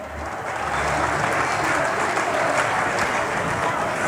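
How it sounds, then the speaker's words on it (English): A crowd at an evening session of the New Zealand shearing championships applauds the competitors, the clapping swelling within the first half second into a sustained, even roar of many hands that continues without talk. "How about a big round of applause for those competitors?"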